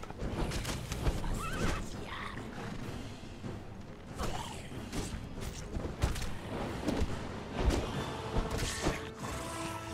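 A horse in the Conan Exiles video game neighs and whinnies repeatedly amid clip-clopping hooves and creaking, mechanical game sounds, moderately loud and continuous.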